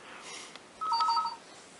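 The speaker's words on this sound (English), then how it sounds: "Sorry about the telephone." A short electronic telephone ring sounds once, a bright warbling chirp that stands out faintly above a quiet room background.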